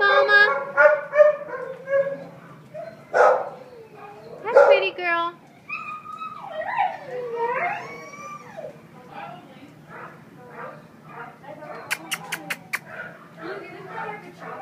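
Dogs at an animal shelter bark and whimper in kennels, with several harsh barks and whines overlapping loudly, while a person talks over the noise.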